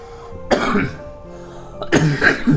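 Two sharp coughs, separated by about a second and a half, each a loud broadband burst from someone close by; no talking.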